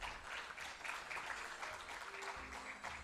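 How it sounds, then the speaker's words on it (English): A conference audience applauds in a steady, even patter of many hands, heard faint and distant for the whole stretch, with a low hum underneath. "Can we have a round of applause, please?"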